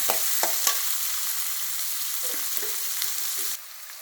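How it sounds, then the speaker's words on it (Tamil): Ground onion paste sautéing in a hot pan, a steady close sizzle with a few scraping stirs early on, the frying continuing alone until it drops to a quieter hiss near the end. "பெரிய வெங்காயத்தை பொடி பொடியாக அரைச்சி வச்சுருக்கேன். நல்லா வதக்கணுங்க."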